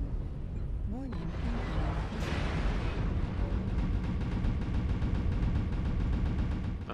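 Short-range mech weapons in a video game firing in a rapid, continuous stream of punchy bursts after a whooshing sweep, loud and dense throughout, with a voice talking over the gunfire.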